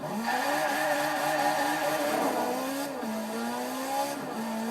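A high-revving Ferrari 458 engine in Forza Horizon 4 screams through rising revs, with brief dips at gear shifts and a faint tire squeal, loud and continuous.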